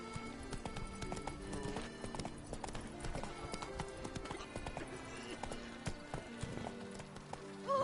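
Roach the horse gallops in The Witcher 3, fast rapid hoofbeats pounding continuously and close, with a faint whinny near the end and no talking.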